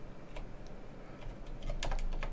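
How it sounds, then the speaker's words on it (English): Quick, uneven keystrokes on a computer keyboard, close and fairly quiet, with a denser burst of clacks toward the end. "My typing is bad."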